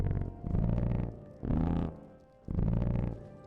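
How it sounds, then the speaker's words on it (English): Farting stalactites in the game Morrowind Bloodmoon give three low, rumbling blasts with a rough, growling texture, each lasting about half a second to a second with short gaps, near and fairly loud with no talk. "here's my farting stalactites"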